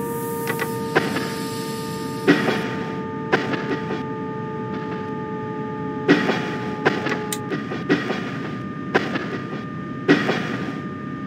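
A regional Trenitalia train in a train simulator game pulls into Monterotondo Mentana station. Steady tones hum beneath a run of sharp, rhythmic rail clicks and clunks, with a brief chime-like burst early on.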